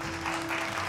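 Audience applause at a green energy conclave, a dense burst of clapping that fills the whole short moment with steady, close, even loudness.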